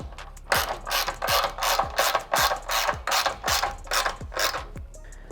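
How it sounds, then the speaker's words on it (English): A torque wrench ratchets in a run of about ten sharp clicking bursts while tightening TP55 running-board bolts on a Rivian R1T/R1S nerf bar side step, with short gaps between strokes. "we can lock down our TP55 and torque it to 80 foot-pounds"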